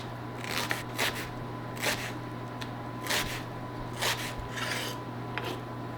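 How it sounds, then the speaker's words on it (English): A knife finely chops onion for a Greek salad, giving soft, crisp rasping cuts in a fairly regular rhythm of about one per second, close and fairly quiet. "people put in a slightly curved piece of onion. Then I cut it like this, very, very finely, so you've got these little pieces"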